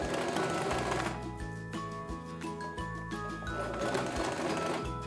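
Sewing machine stitching layered tulle for a wizard costume, a close, steady mechanical whirr broken by brief pauses and restarts, with no talk.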